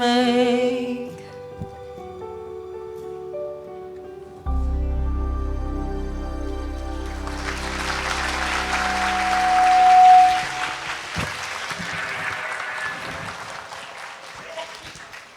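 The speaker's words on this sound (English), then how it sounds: "Again, a round of applause for the Chorus of Arts and Letters." Audience applause for a chorus at a lecture event, rising as broadband clapping after the final held sung note fades, growing louder, then continuing steadily with a voice speaking over it.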